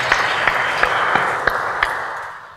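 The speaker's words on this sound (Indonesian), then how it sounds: "Kita kasih tepuk tangan." Steady applause from a crowd, with sharper claps popping out at a regular rhythm before it tapers off at the end.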